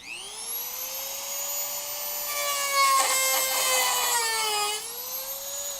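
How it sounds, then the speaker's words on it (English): An angle grinder grinds old welds off a car's floor pan, a loud continuous whine that rises as the disc bites into the metal, then eases, with no talking. "First thing I'm going to do is just grind off what's left of my welds there"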